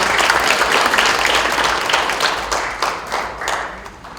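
A crowd at a book launch talk concert applauds, a steady wash of clapping that holds strong and then gradually thins out.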